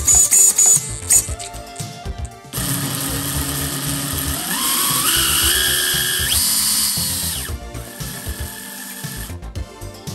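A Kyosho Fantom EP-4WD electric RC car motor runs on a bench test, giving a loud, steady high whine that rises in pitch as the throttle opens, holds, then drops off near the end.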